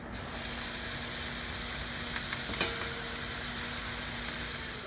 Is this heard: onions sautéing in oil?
yes